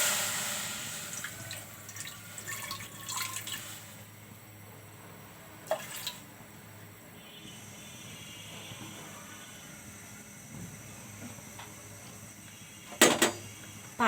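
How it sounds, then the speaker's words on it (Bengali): Water poured into a karahi on the stove for cooking hilsa, a quiet splashing stream early on, then faint clinks and a couple of sharper knocks against the pan. "এখন আমি এখানে পানি দিয়ে দেব।"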